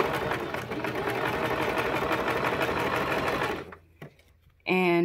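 A sewing machine runs steadily, stitching a fabric face mask along a quarter-inch seam with a rapid even clatter for several seconds, then stops; a voice speaks briefly afterward.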